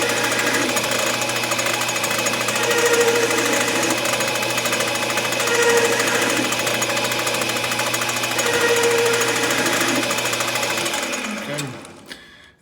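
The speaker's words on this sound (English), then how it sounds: "I'm going to use this bead groove tool just to pop in a couple aesthetic grooves." A lathe cuts decorative grooves into a knurled copper bead with a bead groove tool, giving a steady, close mechanical whir with a rhythmic rattle that runs unbroken for about eleven seconds before winding down abruptly.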